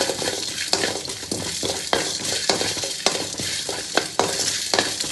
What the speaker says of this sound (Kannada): ಇದಕ್ಕೆ ಹುರಿಯುವಾಗ ಚೂರು ಆಯಿಲ್ ಹಾಕಬಾರ್ದು, ಹಾಗೆ ಹುರಿಬೇಕು